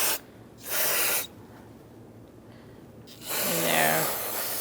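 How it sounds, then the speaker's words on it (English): Brake parts cleaner sprayed into the gasket groove of a 2010-2013 Kia Soul 2.0L four-cylinder engine during a valve cover gasket job, two close hissing bursts with a short gap between them, the second longer. "So I'm going to use some brake pot cleaner"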